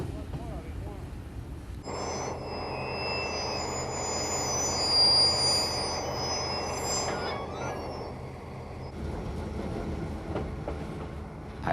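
A CC 72000 diesel locomotive pushing at the rear of a heavy freight train of steel coils, heard as a sustained engine roar with high wheel squeal and rolling rail noise that swells and then eases.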